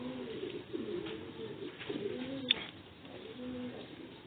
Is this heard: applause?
no